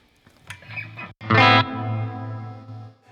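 A Fender Champion 50XL guitar amp plays with a dark hall reverb and chorus, as a short picked phrase gives way to a loud strummed chord that rings out and decays with a washy tail.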